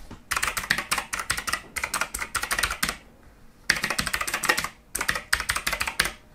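Rapid bursts of clacky keystrokes from a HAVIT KB393L mechanical keyboard with blue switches, typed in quick runs separated by brief pauses, close and clear with no talking.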